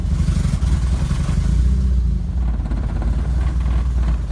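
A hatchback's engine rumbles and revs unevenly, barely idling, loud and close, with clattering mechanical noise throughout and no voices.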